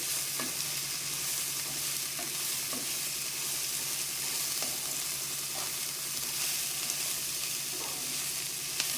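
Spices tempering in hot oil for a flat bean fry, a steady constant crackling hiss with occasional pops and the scrape of stirring.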